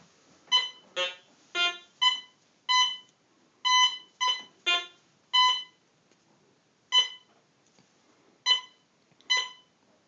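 A Fisher CZ3D metal detector answers a gold ring in an air test with a series of bright electronic beeps, about a dozen short tones in an irregular rhythm, clear and alone.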